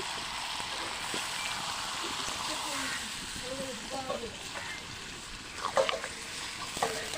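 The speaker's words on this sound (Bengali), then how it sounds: "এবারে জল ছেড়ে দিচ্ছি।" Water is poured into a pan of braised duck meat on the stove, producing a steady hissing rush and sizzle with a few splashy bumps near the end, a voice faintly present.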